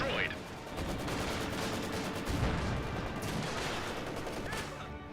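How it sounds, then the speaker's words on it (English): Battle sounds from the Company of Heroes 2 strategy game, with continuous rifle and machine-gun fire and explosive impacts, including a rifle grenade, forming a steady, dense din. "Rifle grenade into the slit trench."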